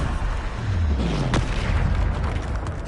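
Bombarda spell blast in Hogwarts Legacy, a single booming explosion about a second in with a falling rumble before it and a dense noisy tail, over a steady game soundscape.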